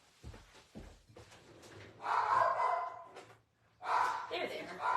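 A pet dog barks at feeding time in a home, coming in two loud bursts of rough, repeated barking, with a quieter stretch of household noise and a voice between them.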